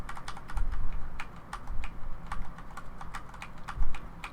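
Computer keyboard keys are pressed in an irregular run of sharp clicks, close and distinct, some in quick bursts and others spaced apart, with no talk over them.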